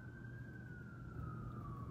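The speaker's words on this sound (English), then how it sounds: "there were some ambulances that just drove by, so there's probably going to be some background noise" An ambulance siren wails from a distance in Norfolk, Virginia, a single slowly falling tone over low traffic rumble, faint and steady with no talk.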